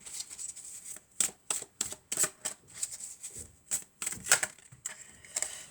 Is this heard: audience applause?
no